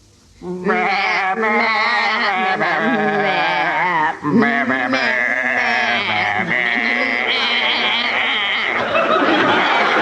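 Voices sing a melody entirely in wavering bleats, imitating sheep, loud and close, with chuckling and laughter mixed in.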